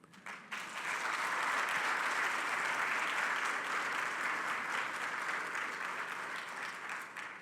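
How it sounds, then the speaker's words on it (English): Sustained applause from an audience at a formal statistics findings presentation, rising quickly after a brief pause and holding as a dense, even wash of clapping with no talk. "I want you to give a hand clap to my team"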